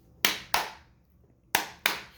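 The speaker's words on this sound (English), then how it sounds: "So basically the way we clap them is like this. We clap them this way." Hand clapping in a quaver-and-crotchet rhythm: two quick claps, a pause, then two more quick claps, crisp and close with no talking.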